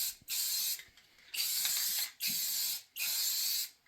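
Aerosol black spray paint hisses onto engraved wood in four close, steady bursts of about half a second each, separated by short pauses.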